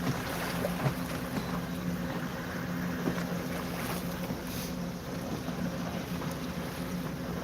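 Waves from the Ohio River wash steadily against a fishing boat pulled up on the bank, a continuous churning wash with wind noise buffeting the microphone and no voices.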